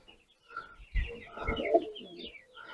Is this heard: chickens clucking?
no